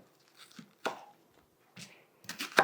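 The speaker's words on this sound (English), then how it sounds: "Okay, I'm going to chop up the onion." A knife chops through an onion in a home kitchen while a low-carb Tex-Mex casserole is prepared, giving a few sparse, crisp cuts with pauses between them and a quick double chop at the end, close and fairly quiet.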